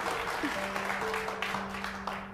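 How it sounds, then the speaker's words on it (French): An audience claps in a moderate, fairly quiet burst of applause, with some faint tonal hum lingering beneath the clapping. "Un tonnerre d'applaudissements, s'il vous plaît."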